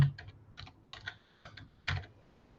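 Keys tapped on a computer keyboard while entering text into an HTML page in Visual Studio Code, in short irregular bursts of soft, close clicks with brief pauses between them and no talking.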